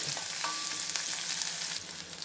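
Onions fry in hot oil for buttermilk rasam, making a constant close sizzle with a few light stirring clicks. The sizzle eases slightly toward the end.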